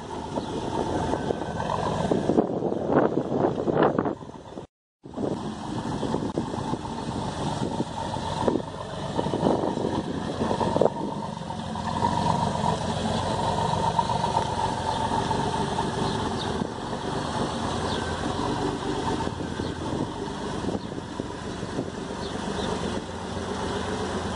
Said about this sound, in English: start the car up here